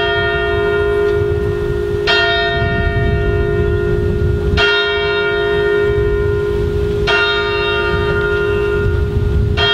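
Church bells ring out loudly during an 11 November Armistice Day commemoration at a war memorial, with several strong clangs spaced a couple of seconds apart over a sustained humming tone and background rumble.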